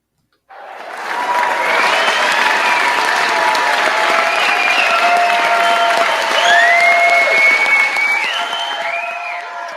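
Loud audience applause and cheering rise sharply from silence into a dense, sustained roar of clapping with scattered whoops and shouts, continuing for about nine seconds.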